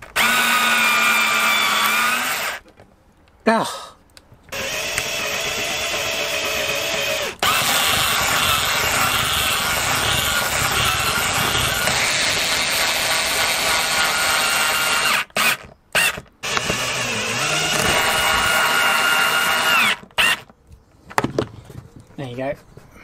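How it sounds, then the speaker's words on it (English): A power drill bores holes for a lightweight bench seat in a Sprinter/Crafter van conversion, whining loudly in long steady runs broken by brief stops and restarts, with a short exclamation from a person. "So drill maybe one hole on either side."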